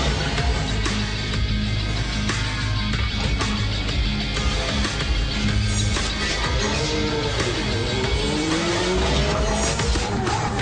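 A Red Bull RB5 Formula One race car drives by with a loud engine roar and rising and falling revs, heard under a layer of background music.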